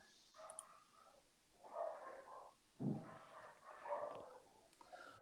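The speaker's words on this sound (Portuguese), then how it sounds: "Estamos ouvindo o cachorro dele" Faint, muffled dog barks and yips from a dog over a laggy live-stream call, a few scattered bursts over several seconds against a quiet, slightly noisy line.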